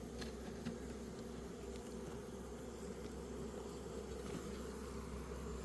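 Asian honeybees hum at their hive in a steady, faint, continuous buzz that stays even throughout, with no voices over it.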